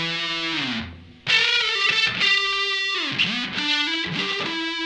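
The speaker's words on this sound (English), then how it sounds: "at full fuzz level, we get a lot of saturation, a lot of sound of the pick hitting the strings" Heavily saturated electric guitar through a Mad Professor Fire Red Fuzz pedal set to full fuzz, with loud sustained distorted notes, chord slides and audible pick attack on the strings, after a brief dip near the start.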